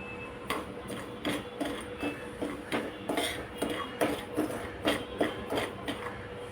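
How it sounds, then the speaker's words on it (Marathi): Semolina (rava) lightly roasting in a kadai, with a spoon scraping and tapping against the pan in a quick, regular rhythm of close, fairly soft strokes. "इथे मी एक कढई घेतली आहे, त्यात पहिल्यांदा रवा भाजून घेऊया हलका"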